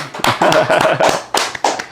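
A few hands clap in an irregular, close-up rhythm to welcome a guest on a Spanish-language podcast, sparse and uneven rather than a full crowd.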